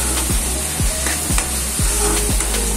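Prawns and drumsticks curry frying in a pan with turmeric powder, a steady close sizzle broken by several regular scraping stirs about every half second.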